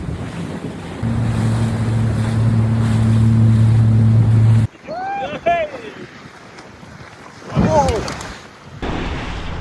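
Sea waves and wind around a stand-up paddleboard crossing of the Storebælt strait in Denmark, with a steady low boat hum from passing ship traffic, then choppy splashes and gusts, and brief voices over the water.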